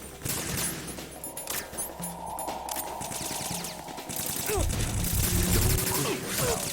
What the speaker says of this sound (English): I found out it's kind of easier to use a machine gun here than the actual weapon